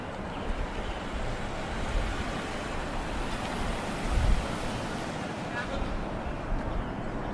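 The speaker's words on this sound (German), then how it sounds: "das ist der Wasserfall im Yosemite Park." Rushing water from a waterfall in Yosemite National Park, a dense continuous roar with wind buffeting the microphone, loud and steady throughout.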